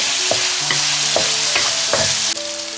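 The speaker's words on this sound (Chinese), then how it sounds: "蛋白， 咱给它翻均匀。" Egg white frying in a hot pan, seasoned with salt and pepper, under a loud steady sizzle while a spatula scrapes and stirs in rhythmic strokes about every half second, close up with no voices.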